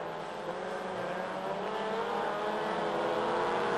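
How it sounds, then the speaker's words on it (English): Touring race cars in the Sandown 3 Hour race scream past at full throttle, a loud continuous engine howl with rising pitch as they accelerate along the circuit. "the fastest car out on the track is, of course, the Haley Blanchard car"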